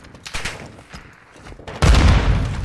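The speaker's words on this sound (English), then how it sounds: "I'm taking fire!" Gunfire crackles in Warzone 2.0, starting as scattered sharp shots and then breaking into a loud, dense burst of rapid fire in the final second.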